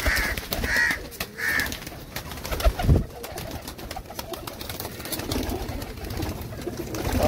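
Teddy pigeons coo and call in a few short bursts amid outdoor background noise in Jammu, with a brief thump partway through and no talking.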